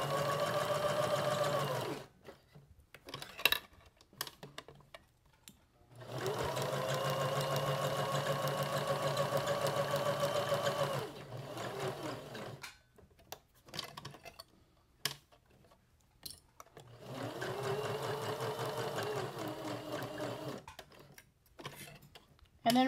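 A home sewing machine stitches the seam of a fabric magnetic bookmark in several steady runs of a few seconds each, separated by pauses where it stops to turn corners, with someone talking quietly during the breaks.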